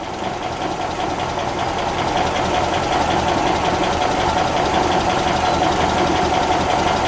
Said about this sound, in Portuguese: Pronto, agora ela ficou o mais estável possível. Marcha lenta ideal.